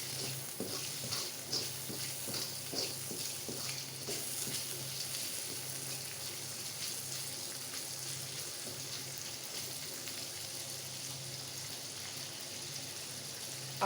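Prawns frying in a pan for Pad Thai, stirred with a utensil, give a constant close sizzle with repeated scraping and clinking strokes, strongest in the opening seconds.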